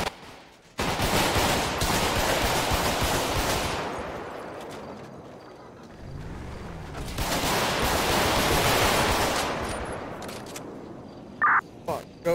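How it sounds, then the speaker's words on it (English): Several gunshots ring out in a police roleplay game scene, loud bursts filling the first few seconds and again midway, broad and sustained like rapid fire, with a couple of sharp clicks near the end. "Multiple shots fired."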